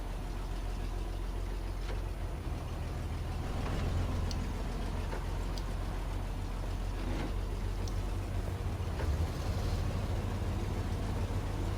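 A truck engine in SnowRunner drones and strains steadily for about twelve seconds as a loud, constant low roar, broken only by faint clicks and small surges.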